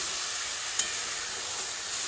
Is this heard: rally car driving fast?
no